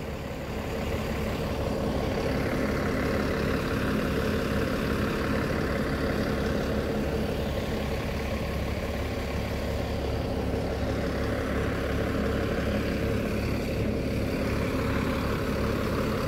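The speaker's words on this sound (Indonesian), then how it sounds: "Ini ya mesin dari ALS Nopin 343" The engine of ALS bus number 343, bound for Medan, idles with a steady low drone that holds evenly throughout, with no talking.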